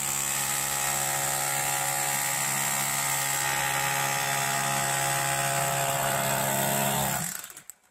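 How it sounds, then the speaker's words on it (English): A hammer drill chews into pyrite ore in a gold mine, a loud sustained buzzing grind with a strong tonal drone that holds steady for about seven seconds before winding down. "we're using just a hammer drill to excavate this stuff out"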